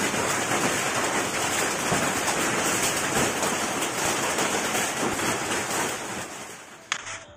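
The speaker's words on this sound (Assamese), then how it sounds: "বাহিৰত পৰি আছে বতাহ বৰষুণ" Heavy wind-driven rain pours steadily outside a house during a stormy downpour with hail, a dense continuous hiss that eases slightly near the end, marked by one sharp knock.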